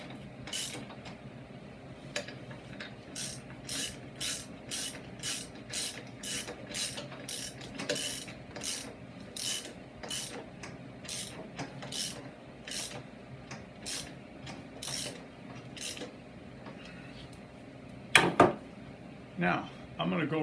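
Socket wrench ratchet clicking in quick repeated bursts while lug bolts are snugged up on a Snapper RER riding mower wheel with a 6-inch extension, close and clear, ending with a few louder clanks.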